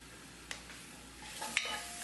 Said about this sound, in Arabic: ننزل بالثوم.